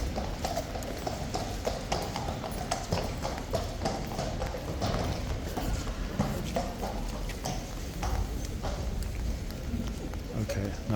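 Hooves clip-clop steadily on pavement as guards' and police horses walk in the rain among tourists, an uneven, continuous patter with people talking throughout.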